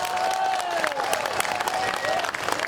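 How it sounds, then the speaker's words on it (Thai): A crowd at an outdoor political rally in Khlong Sam Wa, Bangkok, applauds steadily, with some cheering and tonal voices or whistles mixed in over the moderately distant clapping. "ขอเสียงปรบมือให้เกดการดาเลยค่ะ"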